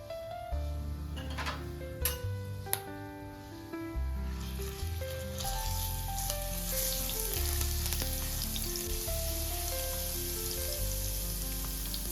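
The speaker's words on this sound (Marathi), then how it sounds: "लसूण परतून झाले" Garlic sautéing in oil for Maharashtrian stuffed brinjal, a continuous crackling sizzle with a few sharp utensil clicks early on and a steady hum alongside, no speech.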